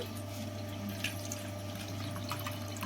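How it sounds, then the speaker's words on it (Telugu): Water is poured through a strainer while henna is being prepared, giving a continuous close trickle with small drips over a low steady hum. "వాటర్ని అయితే స్ట్రెయిన్ చేసుకుందాం."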